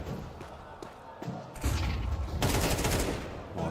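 Bursts of AK rifle fire in the video game Counter-Strike 2, sharp loud cracks and rapid volleys, building into dense sustained gunfire in the second half, with an esports match setting.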